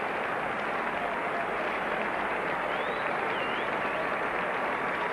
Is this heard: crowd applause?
yes